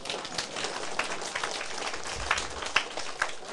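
Applause from an audience at a lecture-style class, a dense patter of many hands clapping, steady and moderately loud throughout.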